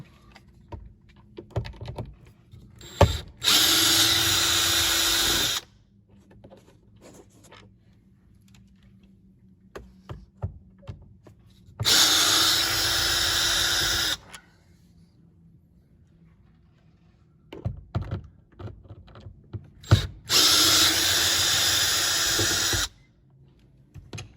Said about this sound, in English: Now there's going to be three number 15 Torx bits. 3 15 Torx bits that we need to take out.